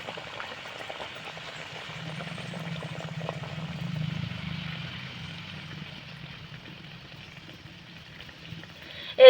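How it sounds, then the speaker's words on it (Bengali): Poa pitha, palm-pulp fritters, frying in a pan of hot oil: a steady soft bubbling and low simmering hiss that swells midway, then a sudden louder clatter right at the end. "একইভাবে করে পোয়া পিঠেগুলো ভেজে নেব"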